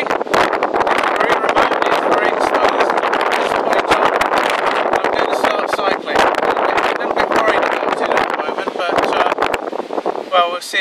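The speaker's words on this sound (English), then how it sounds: "It's pretty windy" Strong wind buffets the microphone in loud, continuous gusts at Port of Ness, roaring and rumbling throughout with a few brief dips.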